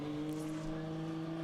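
A drift car's engine revving somewhere around Sebring Raceway during a Formula Drift ProAM event, a steady droning hum with strong tonal bands, heard faint and distant rather than close by.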